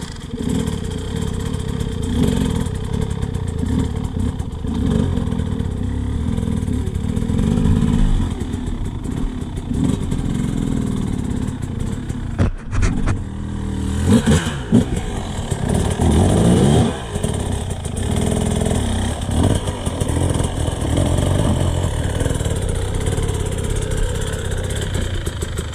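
Enduro motorcycle engine running steadily and loud throughout, the rider feathering the clutch so the revs rise and dip in short surges, with a brief break in the drone midway.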